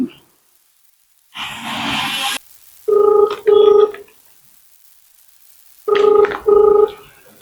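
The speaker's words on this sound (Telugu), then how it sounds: "ఫస్ట్ టీచర్లకు ఫోన్ చేద్దాం." A phone call being placed: a short whoosh, then two pairs of ringback tones repeating after a pause, with quiet gaps between them.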